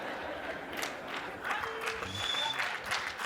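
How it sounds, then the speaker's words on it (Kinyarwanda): An audience at a comedy show applauds for the community patrol members, a steady patter of many hands at moderate distance with light crowd murmur mixed in. "Mukomera amashyi abanyerondo muri show."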